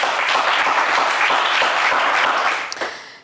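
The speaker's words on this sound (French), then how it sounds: "Ça s'applaudit bien fort." Studio audience on a French television game show applauds loudly and steadily for a contestant, a dense wash of clapping that fades out near the end.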